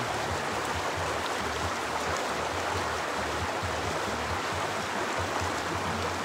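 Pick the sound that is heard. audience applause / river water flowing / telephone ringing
river water flowing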